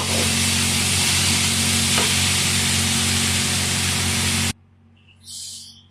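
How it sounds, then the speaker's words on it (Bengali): Cabbage frying in a pan with green chilli, turmeric, fenugreek seeds and a little onion, a loud steady sizzle with stirring scrapes for about four and a half seconds, then dropping to quiet with a faint hiss. "আমরা কপি ভাজি করতেছি, বাঁধাকপি ভাজি।"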